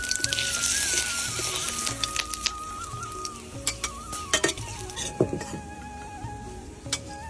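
Bay leaf, dried chili, cumin and whole garam masala frying in hot oil, a close crackling sizzle with sharp pops and spits that grow sparser over time, with no talking.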